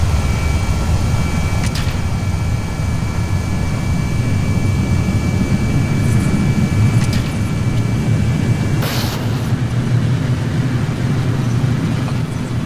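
Jet engines on a space shuttle in Kerbal Space Program give a steady, broad, even roar throughout, with a few brief clicks on top.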